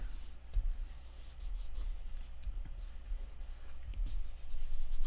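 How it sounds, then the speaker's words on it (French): Design paper being rubbed down onto a cardboard piece to glue it, soft close scraping and brushing strokes that come in repeated passes with small taps, no talk. "je viens coller mon papier design, pardon, sur ma retaille de carton"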